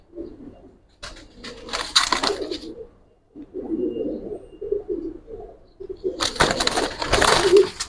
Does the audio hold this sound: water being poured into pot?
no